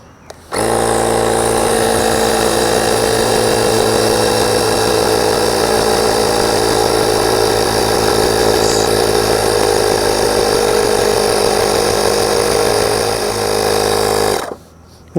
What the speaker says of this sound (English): Okay, so that aired that up actually pretty quick.